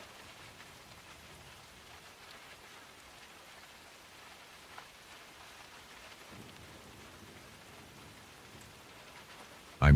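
Rain falling steadily with a soft, even hiss at low level, faint rumbles of thunder in the background, and one brief louder tap near the middle.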